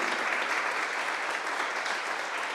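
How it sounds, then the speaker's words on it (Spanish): A church congregation claps steadily and vigorously at an end-of-year service, forming a dense, even wash of applause with no break and no voices standing out. "vamos a aplaudir con fuerza"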